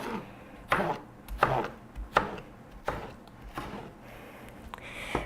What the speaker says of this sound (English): So the tomatoes, just cut them into strips.